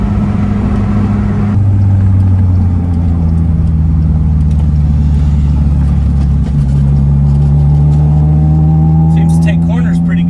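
A Talon vehicle drives and takes corners, its steady mid-pitched engine drone holding close and loud throughout, shifting pitch as it rises and eases, with a faint rattle late on and no talking.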